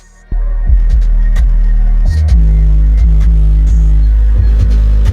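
A song booms through three 6-inch B2 Audio Rampage 6 subwoofers in a large horn enclosure, heavy throbbing bass pulses starting abruptly and continuing loud and dense throughout.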